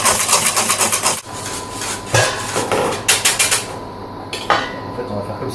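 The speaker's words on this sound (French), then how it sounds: "moi je le fais avec une louche à l'intérieur" A ladle scraping and clattering against the inside of a bowl while mixing crêpe batter: rapid rhythmic knocks and scrapes in bursts, close and loud, with short pauses between strokes.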